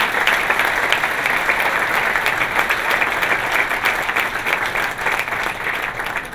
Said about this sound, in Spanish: eso se merece un aplauso enorme